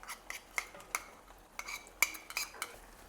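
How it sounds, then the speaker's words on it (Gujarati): A metal spoon stirs a yogurt and spice masala paste in a kadai, giving sharp, irregular clinks and scrapes against the pan, close and fairly quiet with no voices. "હવે દહીંની પેસ્ટ પણ આપણે સરસ મિક્સ કરી લઈશું"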